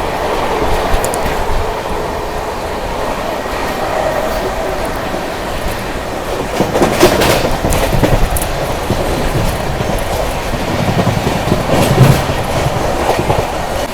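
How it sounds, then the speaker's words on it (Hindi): Mahananda Express, the Alipurduar Junction–Delhi train, passing through Shikohabad Junction station: a steady, loud rumble of rolling railcars with rhythmic clickety-clack over the rail joints that swells slightly midway, with no speech. "Alipurduar junction Delhi Sikkim Mahananda express."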